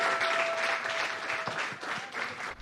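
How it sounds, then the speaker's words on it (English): Crowd claps for the overall winner at a prize announcement honouring a farm livelihood association founder, a dense burst of applause lasting a few seconds and tailing off at the end. "Keep the applause going"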